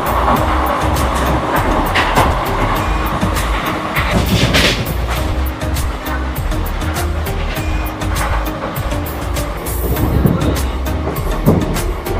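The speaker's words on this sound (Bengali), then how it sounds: "আমাদের ট্রেন কিন্তু অলরেডি 98, 99, 100 কিন্তু স্পিডে ছুটছে" Kolkata to Digha special train 03161 running at speed, a loud, continuous rumble and rattle of carriages on the rails with clattering bursts throughout.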